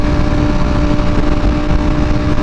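A Ducati Panigale V4R with a new aftermarket exhaust cruises at a steady pace, its engine holding an unbroken, close droning tone with no speech on top.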